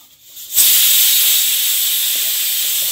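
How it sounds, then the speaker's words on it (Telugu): A pressure cooker of dal on the stove lets out a loud, steady hissing steam whistle that bursts in after half a second of quiet and holds strong to the end, with no talking. "సైడ్ ఏమో పప్పు కుక్కర్ విజిల్ అవుతుంది"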